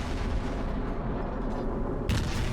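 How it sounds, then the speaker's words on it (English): High-caliber naval guns in World of Warships: a continuous heavy rumble of battle, then a sudden sharp, booming shot near the end. "But I keep those guns on target, and these things are fairly high caliber guns, so they pack a punch"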